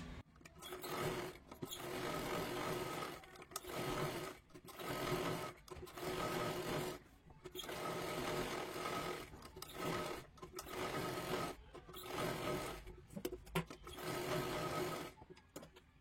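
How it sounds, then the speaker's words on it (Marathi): A sewing machine stitching a katori blouse runs in repeated whirring bursts of a second or two, separated by short pauses, with a close, even mechanical hum. "हे सुद्धा आकारामध्ये व्यवस्थित शिलाई मारून घ्यायचं"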